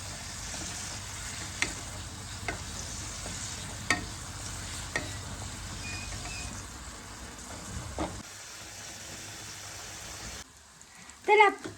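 Paneer fries in a pan, a continuous soft sizzle punctuated by occasional stirring taps, with people talking beneath it; the frying drops away near the end, leaving a few louder clatters.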